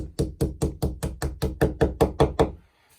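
A hammer taps a wall plug into a brick and plaster wall about a dozen times in a steady, even rhythm, close and solid, then the knocking stops and it goes quiet.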